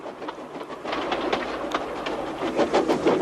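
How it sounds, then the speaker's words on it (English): A steam engine hauls a dirty freight train in a Thomas & Friends-style story, a continuous rattling, clanking rumble of rolling wagons with rhythmic clacks, steady and fairly loud. "he was pulling a dirty freight train"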